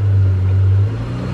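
A 2000 Isuzu Rodeo engine idles during a transmission check, a loud steady low rumble close by that eases slightly near the end.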